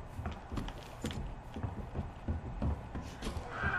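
Footsteps in the Resident Evil 2 survival horror game, a steady run of heavy, thudding steps under a tense ambient backdrop, fairly quiet and continuous with no talk over them.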